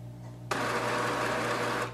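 An HP DeskJet 3772 inkjet printer's scanner whirs into motion scanning a page, giving a steady mechanical rushing noise for about a second and a half over a low electrical hum.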